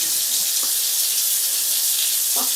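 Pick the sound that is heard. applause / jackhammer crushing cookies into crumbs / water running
water running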